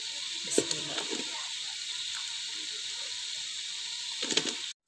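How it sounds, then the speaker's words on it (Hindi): Potatoes fry in masala in a pan with a steady, faint sizzle throughout, broken by a few soft scraping stirs near the start and again just before the end. "इसको इसी मसाले के अंदर अच्छी तरह से थोड़ी देर हम भून लेंगे"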